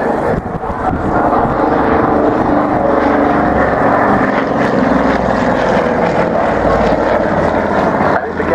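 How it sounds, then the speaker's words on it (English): A vintage four-seat transport and mail aircraft, built for Imperial Airways, flies with its two 270 horsepower Armstrong Siddeley Cheetah engines droning loud and steady at an air show, while a voice talks over it. "there are two 270 horsepower Armstrong Siddeley Cheetah engines"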